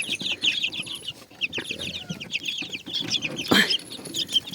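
Young chicks cluck and chirp close by in a busy, overlapping chatter, with a sudden burst of flapping wings partway through.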